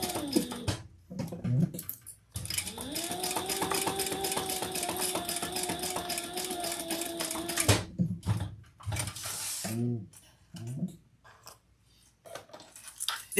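A sewing machine runs steadily for several seconds, basting fabric wings at an eighth of an inch, a close whirring hum with rapid needle ticking, framed by short handling noises before and after.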